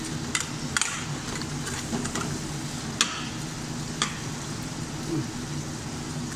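Shrimp in garlic butter with black pepper sizzles softly in a pan, with a low crackling bed and a few sharp utensil taps and scrapes scattered throughout.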